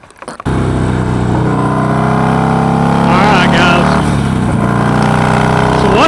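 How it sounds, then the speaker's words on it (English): Harley-Davidson bagger motorcycle ridden fast, a loud, steady, close engine drone that kicks in after a brief pause, with rising and falling revs as the bike accelerates. "what people don't tell you about riding fast on a Harley Davidson"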